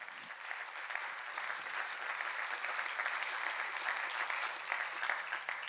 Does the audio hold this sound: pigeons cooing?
no